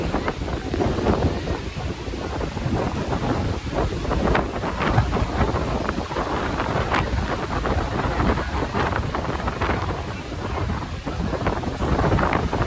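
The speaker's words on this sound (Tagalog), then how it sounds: "Oh, so windy." Strong wind at Mactan Beach in Cebu, Philippines, buffets the microphone in a continuous loud roar with gusty rumbles, no clear voices over it.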